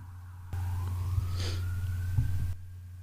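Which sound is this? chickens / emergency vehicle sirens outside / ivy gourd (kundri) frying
emergency vehicle sirens outside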